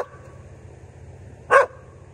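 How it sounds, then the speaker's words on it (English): A collared dog held inside a closed live trap gives a single short, loud bark partway through, with a low steady rumble beneath and no voices. "he's got a collar, but I don't know whose dog it is"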